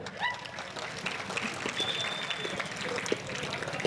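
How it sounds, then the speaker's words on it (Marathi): Scattered applause from an audience at a Marathi motivational talk about Chhatrapati Sambhaji Maharaj, moderately loud and spread through the hall, with a few sharp claps and faint whistles. "आईने पहिल्यांदा टाळ्या वाजवायला काही हरकत नाही"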